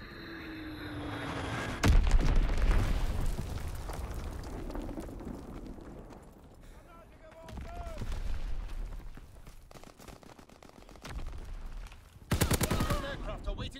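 Bursts of bomb explosions and rapid gunfire from the World War II shooter game Call of Duty: WWII, with loud blasts near two and twelve seconds and sustained rumbling battle noise between them, under occasional game voice callouts.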